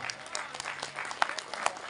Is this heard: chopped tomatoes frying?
no